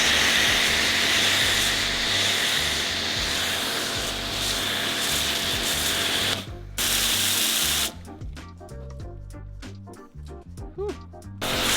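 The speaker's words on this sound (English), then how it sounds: "And also using the Autobrite foam gun." An Autobrite Direct steel-topped foam gun sprays a steady loud hiss of foam over a dirty, muddy Suzuki Jimny, cutting out briefly twice before sputtering, spitting bursts toward the end.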